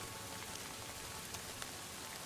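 Rain in Kingdom Come: Deliverance II, a steady soft hiss of falling drops with faint scattered patters, quiet and continuous with no voices.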